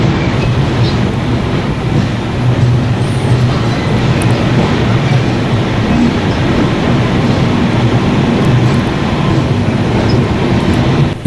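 A passenger train pulling out of Erode Junction and running along the line, a steady loud rumble with rattling wheels and carriage noise throughout, with no voices.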